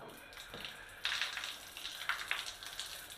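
Water rushes into and spills out of a Haier 25-litre electric geyser tank during installation, a close, uneven gushing flow that surges in louder bursts with no voices.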